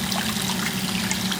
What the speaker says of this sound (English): The irrigation system is going.